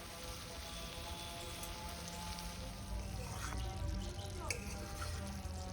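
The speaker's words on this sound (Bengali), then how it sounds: "দেখো এই যে গ্রেভিটা খুব সুন্দরভাবে ফুটে গেছে।" Gravy for an egg and capsicum curry, sweetened with sugar, bubbles steadily in a pan, giving a soft, continuous hiss and patter of popping bubbles close by.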